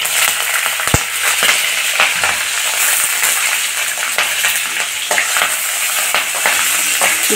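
Green chillies frying in a pan for Kadapa karam dosa masala, a loud, close sizzle with frequent spatula scrapes and sharp ticks of metal throughout, no voices.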